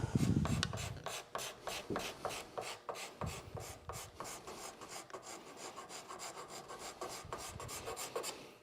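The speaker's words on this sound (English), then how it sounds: "So this is a good time for your card scraper." Quick, rhythmic rasping of a card scraper taking small hits across a wooden tabletop surface, a steady run of short, close strokes repeating for several seconds.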